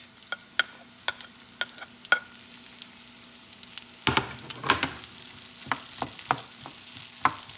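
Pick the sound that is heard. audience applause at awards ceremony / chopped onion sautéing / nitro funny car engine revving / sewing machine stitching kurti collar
chopped onion sautéing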